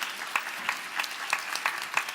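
Audience applause welcoming a panel at an innovation conference, steady clapping from a crowd with distinct individual claps standing out in an even rhythm.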